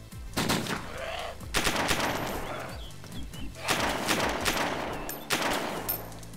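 A Scorpion gun fires in DayZ in repeated rapid automatic bursts, sharp and close, in several separated strings across the stretch with short gaps between them.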